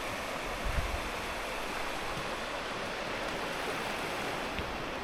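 A river flowing along a hiking route in the Brecon Beacons, a faint, steady rushing of water with a brief low bump near the start and no voices.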